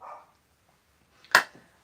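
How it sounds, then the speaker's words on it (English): A dog gives a single sharp bark in the background of a quiet indoor room, preceded by a brief faint sound and otherwise near silence. "That would be my dog in the background."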